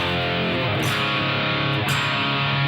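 Distorted electric guitar chugs through a riff, thick sustained power chords with two brief accented hits, loud and continuous throughout.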